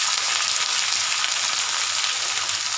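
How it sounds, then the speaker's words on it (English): Curry leaves and two medium onions fry in hot oil for lemon rice, making a loud, dense, continuous sizzle that holds steady throughout, close up with no talking. "So add 2 medium-sized onions, fry it nicely."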